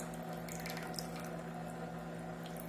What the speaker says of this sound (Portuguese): aqui dentro tem uma bombinha que puxa a água